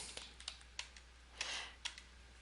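Keys tapped on a computer keyboard while entering a vendor name into accounting software, scattered quick clicks about every half second with a brief burst near the middle, faint and alone.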